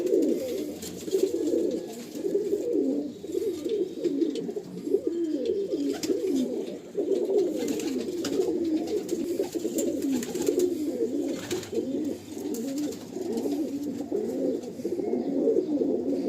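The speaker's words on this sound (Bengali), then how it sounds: "একজোড়া কালদমা পায়রা শখ করুন" Kaldama pigeons in a pigeon loft in Kolkata coo continuously, overlapping soft throaty calls layered close together, with faint rustling and distant noises behind.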